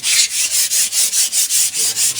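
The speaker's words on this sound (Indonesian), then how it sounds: "ini kita amplas dulu ya, pakai amplas yang kasar ya" Coarse sandpaper scrubbed by hand over a car body panel before filler, about ten steady back-and-forth rasping strokes in an even rhythm, close and loud with no talking.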